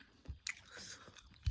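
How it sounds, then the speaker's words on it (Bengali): Close, quiet chewing of roasted organic corn: a few soft crunchy bites and mouth sounds over about a second and a half, with a sharper bite at the end. "ভুট্টাটা খেয়ে ঝালটা একটু কমাচ্ছি।"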